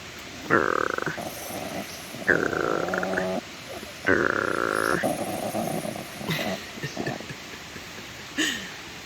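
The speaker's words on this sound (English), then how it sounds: "are you gonna growl at me again? You gonna growl at me?" A dog growls in low, rumbling bursts several times in a row, close and fairly loud, during a morning on an Appalachian Trail thru-hike.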